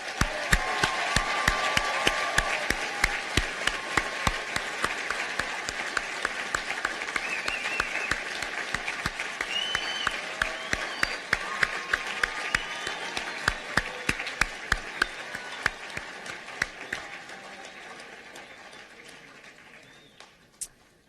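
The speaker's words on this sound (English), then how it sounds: "let's give our future physicians a big round of applause." A large audience at a medical school white coat ceremony claps steadily for about twenty seconds, the applause dense at first and gradually thinning out toward the end.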